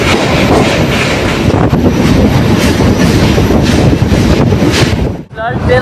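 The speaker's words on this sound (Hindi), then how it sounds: "ट्रेन हमारी क्रॉस कर रही है अपनी काशी की तरफ" A train crosses a bridge over the Ganga near Kashi (Varanasi), giving a loud, steady rumble of rolling wagons that fills the whole stretch and dips briefly near the end.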